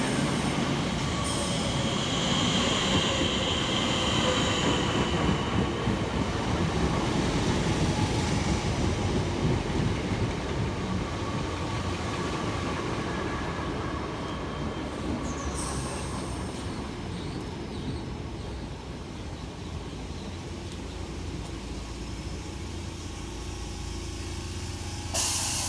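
A Southeastern electric multiple-unit train of three units braking into a station on the Hayes line, loud rolling rumble with squealing wheels and brake hiss that gradually eases as it slows, with a sharp clunk near the end.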